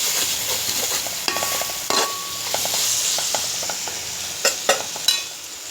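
Onion and tomato fry in a pan for fish biryani, with a steady sizzle and the scrape and clink of a spoon stirring, plus a few sharper knocks against the pan near the end.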